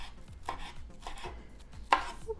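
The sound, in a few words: chopping fresh chives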